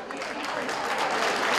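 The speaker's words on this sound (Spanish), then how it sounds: "Un aplauso muy grande para ella" Sustained applause from an audience at a national assembly of widows, steady and dense clapping throughout with a slight swell toward the end.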